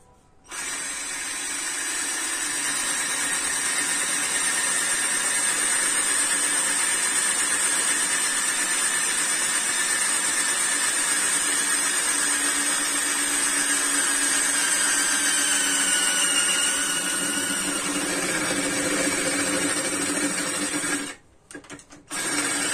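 A Vonder PFV012 cordless drill boring with a 10 mm steel bit, a loud steady motor whine held for about twenty seconds before briefly stopping and restarting near the end, with no talk.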